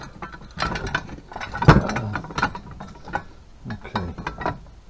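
Ratchet-type tool tightening bolts in a repair workshop, giving a few short clicking bursts with one louder metallic clunk near the middle, fairly close and without talk.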